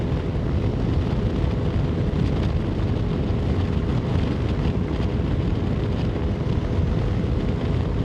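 Strong wind roars across the microphone in a steady, heavy, low rumble that stays loud throughout, with no voices heard.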